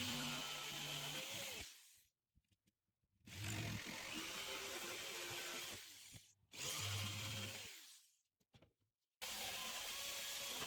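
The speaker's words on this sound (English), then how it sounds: "use the jigsaw to remove the inner panel of the wall" A jigsaw cuts out the inner panel of a shop wall to make way for dust collector ducting, three long loud bursts of buzzing, rattling cutting broken by short silent pauses.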